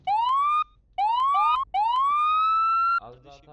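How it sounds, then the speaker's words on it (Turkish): Police car siren in a roleplay video game, loud rising wails cut into three bursts with short gaps, ending abruptly as other game sounds take over. "Evet, sireni de açtık."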